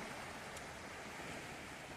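Calm sea washing softly onto a beach beside pines, a faint, steady hiss of small waves heard from a distance with no voices.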